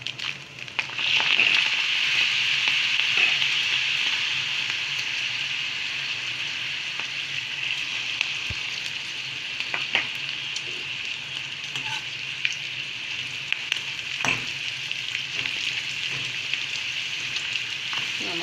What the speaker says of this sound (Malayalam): ഓയിലും ചൂടായി അതിലേക്ക് പപ്പടം ഇട്ട് കൊടുക്കാം